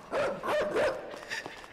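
Dogs bark in a short run of three close, loud barks inside the video game Inside, with a faint tail of sound after.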